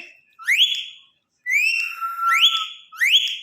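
A talking parrot whistles in a run of rising, upward-sweeping calls, four or five bright whistles with short gaps between them, close and clear with no talk over them.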